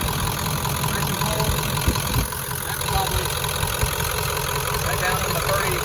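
A 1996 Ford F350 with the 7.3L PowerStroke turbo diesel idles in a steady, dense rumble with a constant clattering texture, close and continuous throughout, with no talk.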